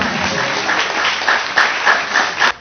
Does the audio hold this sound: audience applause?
yes